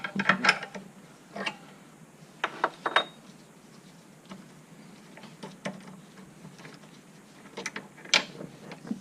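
Bubble flaring tool on a brake line being loosened, giving scattered metallic clicks and ratcheting clatters in bursts, close and moderately quiet with pauses between.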